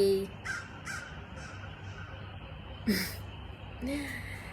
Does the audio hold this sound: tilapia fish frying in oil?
no